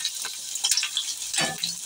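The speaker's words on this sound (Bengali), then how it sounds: "কচুটা একটু ভালো করে ভেজে নিতে হবে" Pieces of taro fry in a pan for a Bengali kochu chingri dish, giving a brief, crackling sizzle with small spits and pops that rise and fall over a couple of seconds.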